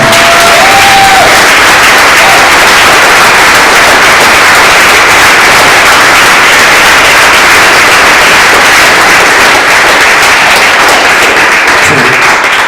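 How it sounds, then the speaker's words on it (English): Loud, prolonged applause and cheering from a packed audience at a live Native hip-hop and spoken-word event, a dense roar of clapping that holds steady throughout. "can we just give another big round of applause for Sam?"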